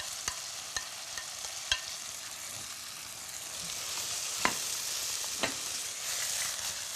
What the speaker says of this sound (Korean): 이거 같이 볶아주면 돼요